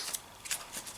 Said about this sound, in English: quick shuffle.